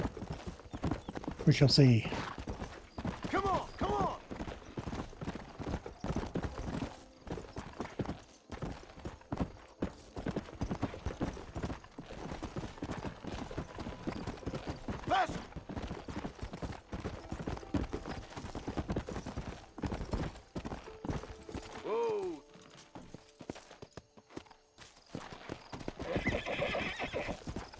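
Horse hooves clip-clopping steadily while riding in Red Dead Redemption, a continuous trotting rhythm with occasional neighs and whinnies, someone talking briefly over it.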